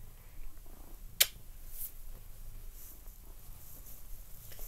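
A small kitten purring close by, a soft, low continuous rumble with a single sharp click partway through and no voices.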